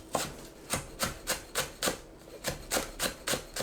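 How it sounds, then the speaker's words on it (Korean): Green onion is finely chopped with a knife on a cutting board, twelve crisp, evenly spaced chops ringing out in a steady, quick rhythm, close up with no talking. "파를 작게 썰어주세요."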